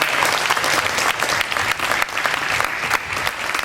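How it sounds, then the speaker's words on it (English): Steady applause from an audience honoring players at an AAU all-star basketball game, dense continuous clapping that holds at an even loudness throughout. "So big round of applause for them."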